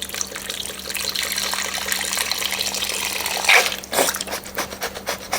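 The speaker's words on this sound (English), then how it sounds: "add in about 32 ounces of beef broth" Beef broth, about 32 ounces, pouring into a pot roast pot: a steady liquid rush running for several seconds, then a brief splashy burst and tapering trickles, close and moderately loud.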